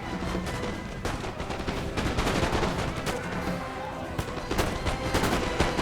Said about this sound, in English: some of my artillery is still firing, of course.